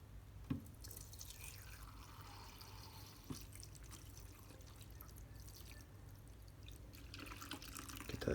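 Warm soapy water runs and splashes steadily into a small basin set up for cleaning a Rolex GMT Master II watch, quiet and close, with a few drips and small knocks.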